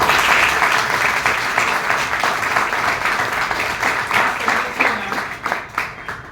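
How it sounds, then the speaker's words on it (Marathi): An audience bursts into loud, sustained applause: dense clapping from many hands that holds steady, then thins out and tapers toward the end. "एकदा खरंच जोरदार टाळे"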